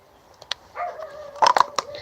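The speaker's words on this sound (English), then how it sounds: "I don't like when he's out there barking up a storm" A dog outdoors gives a whine followed by a cluster of short, sharp barks and yips, fairly close and loud, with no one speaking.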